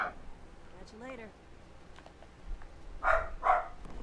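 A small dog lets out a few sharp yips and barks, with two louder ones close together near the end, mixed with a person talking nearby.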